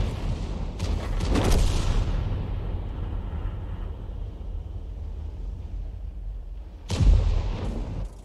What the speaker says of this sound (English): We fire around at a T-28, but it hits the building.